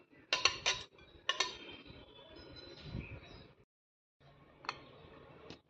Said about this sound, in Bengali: সবগুলো আবারও ভালো করে মিশিয়ে নিচ্ছি